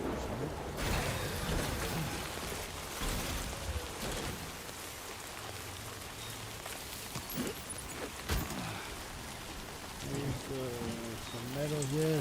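Timefall rain in the Death Stranding 2 video game falls steadily as broadband hiss, with occasional louder patters and thuds throughout, soft and continuous over the whole stretch.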